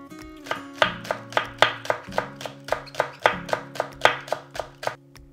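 Two green onions being minced with a knife on a cutting board: a steady run of crisp, close chopping strikes in an even rhythm, each one sharp and distinct, with no voices.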